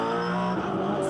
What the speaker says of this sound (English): We're going to stay with Russell Ingall and have a listen to the throttle modulation at these spots, especially turn 6.